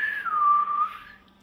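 A person whistles a single drawn-out note at a chick that slides down in pitch, holds steady, then fades, with no talking.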